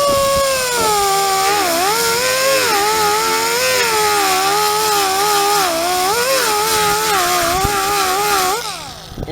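A Campbell Hausfeld angle die grinder screams loudly on metal, its high whine wavering in pitch as load changes, continuous and close for about nine seconds before cutting off.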